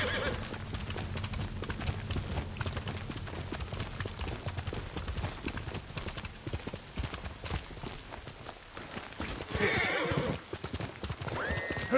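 Horse hooves clip-clop at a steady gallop in the video game Ghost of Tsushima, with a horse neighing and whinnying near the end over a continuous bed of game music and ambience.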